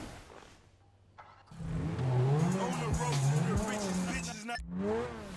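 Car engine in GTA 5 revs up loudly and holds a strong, rising and falling drone after a quiet start, with tire noise and someone speaking over it.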